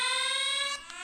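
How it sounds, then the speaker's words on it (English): A boat's anchor alarm beeps in a steady high electronic tone, close and fairly loud, cutting off briefly near the end before a short chirp resumes. "Anchor alarm."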